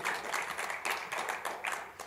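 A church congregation claps together during a Tuesday evening worship service, a brief, quiet, uneven patter of many hands with no talking.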